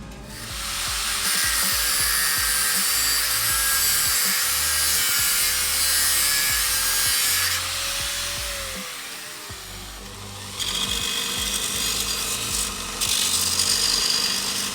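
Hollow engine dowel for a Barra-to-GM T350 adapter plate being cut shorter, a loud, continuous harsh grinding cut running for several seconds, changing pitch near the end.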